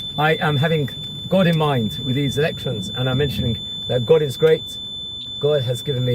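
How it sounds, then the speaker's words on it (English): A rental car's reversing warning sounds as a thin, steady high-pitched tone running continuously beneath someone talking in the driver's seat. "This car I'm renting, and it just keeps making a noise when I reverse for some reason."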